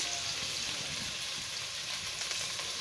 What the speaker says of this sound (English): So onions in. I like that sizzle.